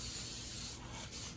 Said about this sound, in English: I'm spraying this pan